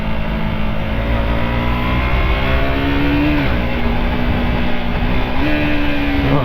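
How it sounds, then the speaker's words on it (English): A 2022 KTM RC 200 single-cylinder motorcycle engine drones steadily under the rider at speed, loud and smooth, with pitch dipping and rising slightly as revs shift, mixed with constant wind rush. "But this engine is surprisingly smooth"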